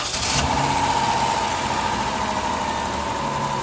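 A car engine idles steadily and fairly loudly during a fuel system check with the key on and the engine running. The drone is even and unbroken throughout, with no talk over it.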